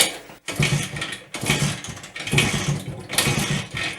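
A WSK 125 motorcycle engine kicked over at full throttle, cranking in rough, churning bursts, each lasting about a second with short pauses between, loud and close.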